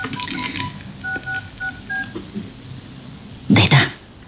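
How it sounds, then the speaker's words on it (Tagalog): A cellphone in an Ilocano drama scene gives off short electronic tone beeps in a quick run, followed by a louder burst near the end, over quiet room noise. "agringan ti cellphone na."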